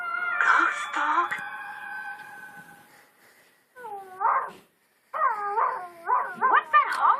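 A ghost dog howls and wails in long, wavering, tonal cries, loud and close, broken by a couple of brief silences, with no talk over it.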